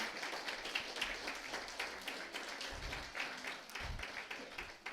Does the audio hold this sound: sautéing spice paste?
no